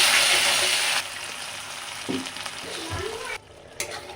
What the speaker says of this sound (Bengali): এখন এই বাটাটা দিয়ে দেবো, কাজু বাদাম, পোস্ত, আদা, কাঁচা লঙ্কা বাটাটা তেলে দিয়ে ভালো করে কষিয়ে নেব